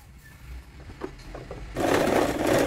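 Sewing machine stitching a straight seam on a small witch hat for a Blythe doll, starting up after a quiet moment with soft clicks and then whirring steadily and close for the final second or so.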